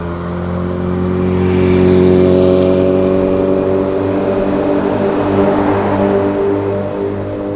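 A car passes on a rural road, its engine hum swelling loud and close then tapering away, heard steadily for several seconds with no talk.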